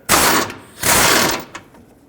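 A ratchet with a 13mm socket loosens a bolt on a 2008-2010 Ford F-250 during heater core crossover tube work, giving two quick bursts of rapid metallic clicking, close and fairly loud, then a faint tap.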